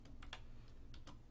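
Keystrokes on a computer keyboard, faint and close, with about half a dozen sparse, irregular clicks over a quiet background and no talk.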